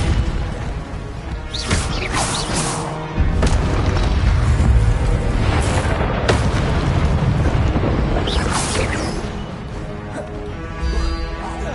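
Confringo fire spell blasts in the Hogwarts Legacy video game: loud, heavy booming explosions with rumbling crashes and whooshing bursts, sustained combat noise over several seconds, with a character's voice casting spells.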